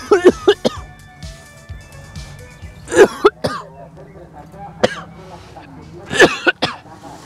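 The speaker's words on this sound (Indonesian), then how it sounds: "abunya, membuat saya batuk-batuk terus" Repeated coughing and throat clearing from a worker breathing ash while harvesting coconut shell charcoal from a drum, several sharp bursts spread across the stretch with low background noise and a voice.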